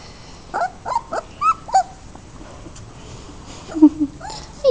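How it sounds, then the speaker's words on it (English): Alaskan Malamute puppies whimper and yip in short high-pitched bursts, several small cries scattered over quiet background, close to the microphone. "these are my puppies"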